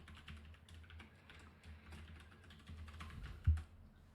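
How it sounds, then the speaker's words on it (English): Typing JavaScript code on a computer keyboard, a quiet steady patter of keystrokes over low room hum, with one sharper louder tap near the end. "Type JavaScript"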